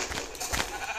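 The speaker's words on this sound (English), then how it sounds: "Sheep!" Sheep bleating in the Minecraft video game, a short close burst of game animal sound with no talking over it.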